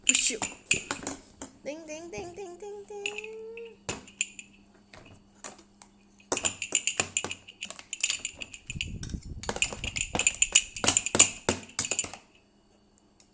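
Spoons and forks clink against dishes while a plain rice porridge meal is eaten at home, with a steady run of close, bright metallic taps and scrapes and a voice briefly heard.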